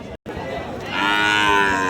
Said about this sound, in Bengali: দর্শক এই পাশে যে গরুগুলো দেখতে পাচ্ছেন